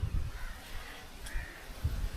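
A crow caws faintly near a garden fish pond at a Kerala home, a few rough calls spread over two seconds with quiet surroundings.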